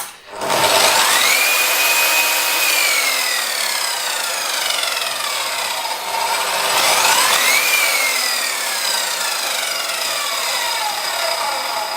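An Evolution RAGE S-300 radial saw motor whines up to speed loudly and close, winds down as it is switched off, then is restarted and spins up again, a steady high-pitched electric whir throughout.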